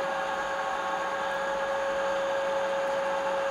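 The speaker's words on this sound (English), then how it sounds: "Now the machine is on." Milling machine in a laboratory workshop, running steadily with a constant whine and broadband whirr, near and loud, no speech throughout.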